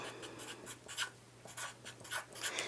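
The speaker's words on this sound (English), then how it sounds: "And I'm going to write down helpful." A pen writes a word by hand on paper for a Mother's Day butterfly craft, giving quiet, close scratchy strokes in short bursts with pauses between letters, over a faint steady hum.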